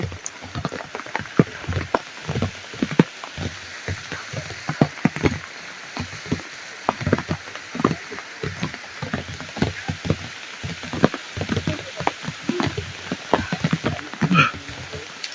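Heavy rain pounding down in a steady dense patter, with sharper individual drops striking a nearby surface throughout, loud and unbroken.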